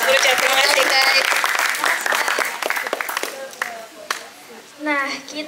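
Audience clapping at a community talk show, a burst of many hands that thins into scattered claps, with voices talking over it and a voice near the end.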